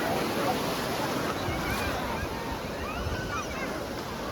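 Sea waves roll in at Appikonda beach near Visakhapatnam, a steady broadband wash of surf with wind noise, continuous and fairly close, no one talking over it.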